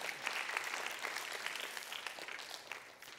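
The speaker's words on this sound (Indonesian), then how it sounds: "Saudara sekalian, tepuk tangan dulu untuk Tuhan Yesus" A church congregation bursts into sustained applause during an Indonesian sermon, many hands clapping in a dense, even roar that fills the clip and eases off slightly near the end.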